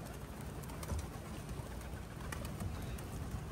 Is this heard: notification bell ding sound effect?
no